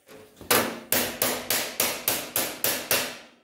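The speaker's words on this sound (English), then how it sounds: "And I'll just hammer that right onto the yardstick." Eight steady hammer blows ring out in an even rhythm, each a sharp, loud knock on a wooden yardstick with a quick decay, no voices.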